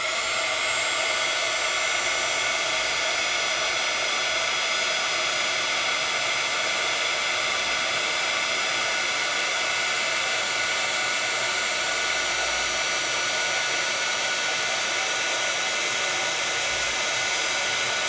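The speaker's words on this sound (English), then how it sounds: "And now let's heat. And this time I'm going to heat it all the way through." Hot air blowing steadily from a heat tool used to heat-set stencil embossing for crafting, a loud, continuous broadband whoosh with no breaks or talk.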